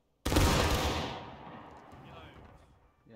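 Infantry musket volley in War of Rights, a dense crash of many muskets firing at once, loud and close, then a rolling echo fading over a few seconds.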